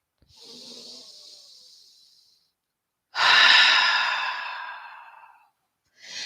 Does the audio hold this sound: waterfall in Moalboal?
no